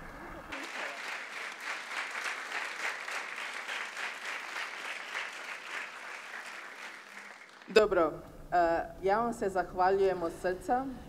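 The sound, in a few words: audience applause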